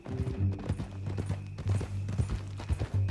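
Horse hooves clip-clopping in Red Dead Redemption 2, a steady near rhythm of hard knocks, some under soft background music and faint voices.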